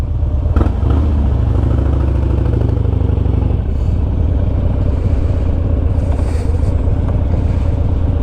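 A motorcycle engine idles and runs steadily close by, a continuous loud low rumble with a brief clatter near the start and a slight shift in tone partway through, heard outdoors with some wind noise.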